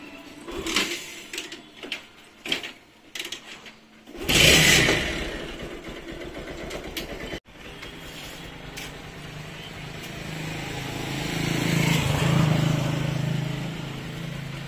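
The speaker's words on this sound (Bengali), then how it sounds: "সাবধানে আস্তে আস্তে চালাবি বাইক।" A motorbike engine idles and revs close by, a steady mid-pitched drone swelling and easing over several seconds, preceded by a few short bursts of talk and handling noise.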